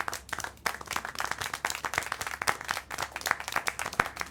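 Scattered hand clapping in the video game Syberia: The World Before, a crowd's uneven claps coming fairly quietly and continuously like light applause from an audience.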